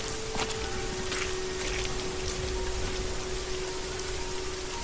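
Steady rain falls as a dense, even hiss. It holds at the same level throughout, with no other sounds.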